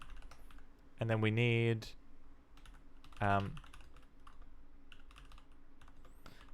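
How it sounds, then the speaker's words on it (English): Typing on a computer keyboard during a programming session, with soft, quick key clicks scattered through the stretch under brief spoken remarks. "I'm always typing out the current branch name like an absolute scrub"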